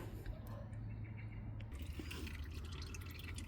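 Engine oil drains from the sump of a Vauxhall Insignia 1.6 CDTI into a catch pan, a steady liquid trickle and dripping with a low background hum, heard alone throughout.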